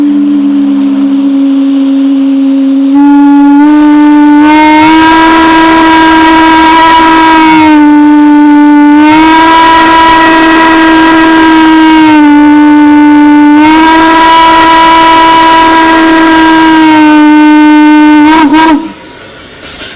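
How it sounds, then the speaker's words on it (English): A steam whistle at a family sorghum-making operation blows loud and sustained, sounding in long pulsing blasts for nearly twenty seconds before cutting off abruptly. "let's blow the whistle"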